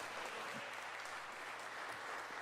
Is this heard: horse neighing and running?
no